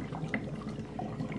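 Air bubbles stirring the water of a freshwater aquarium make a soft, steady gurgling fizz with scattered small pops, faint and continuous with no voices.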